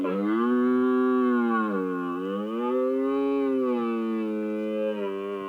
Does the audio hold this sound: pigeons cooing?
no